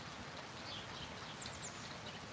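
Steady rain falling on a cold day in rural Thailand, a constant dense hiss throughout, with faint bird calls chirping over it.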